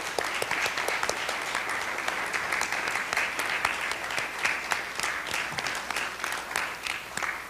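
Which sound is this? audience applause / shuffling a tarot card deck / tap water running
audience applause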